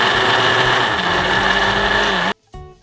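An electric blender purées ingredients with water into a natural food colouring for an Indonesian porridge, making a loud, steady whirring roar that cuts off abruptly near the end, leaving faint residual noise.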